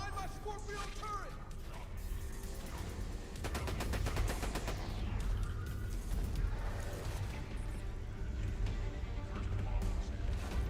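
A Scorpio turret in the video game Borderlands 2 fires rapid automatic bursts amid clanking mechanical noise and crashes, the loudest stretch dense and rattling, with voices mixed in.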